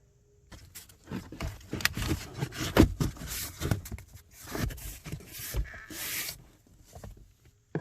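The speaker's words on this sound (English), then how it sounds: "New air filter goes in the same way." A new car cabin air filter slid and pushed into its plastic housing, giving a series of close rubbing, scraping and rustling sounds with small knocks in irregular bursts, no talk.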